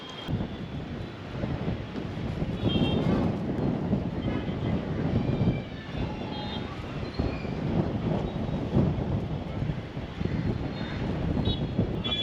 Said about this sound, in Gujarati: માણસ આખો આમ ફરી જાય ને એટલો જોરદાર પવન આવે છે એમ